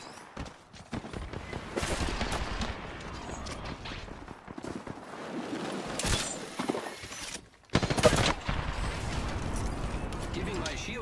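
Bursts of automatic gunfire in Apex Legends, rapid rattling volleys that come and go over about ten seconds, with one sharp louder burst near the end and background game noise throughout.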